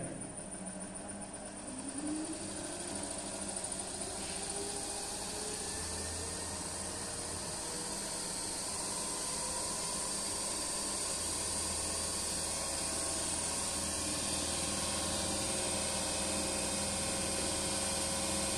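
A Terco DC shunt generator set running steadily in a lab as its speed is raised to 1400 rpm, giving a continuous machine hum with a broad hissing whine and low drone that holds evenly throughout, no talk.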